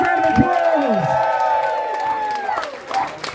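A festival crowd at an outdoor chilli eating contest cheers and whoops for a young contestant, with rising and falling shouted voices and a little clapping, steady and fairly close for a few seconds.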